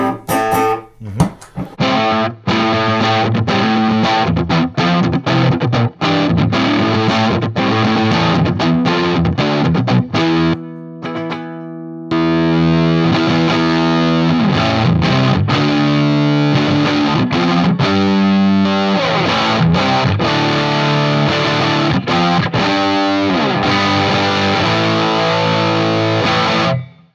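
Electric guitar played through an FFX boost and overdrive pedal for a fat, vintage-style distortion, loud sustained chords and riffs with one brief pause partway through.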